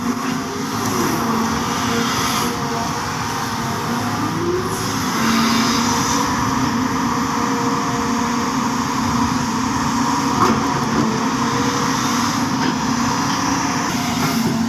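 Caterpillar C4.4 diesel engine on an earthmoving machine at a riverbank worksite, a loud, steady low rumble with a droning hum that holds evenly throughout, no talk over it.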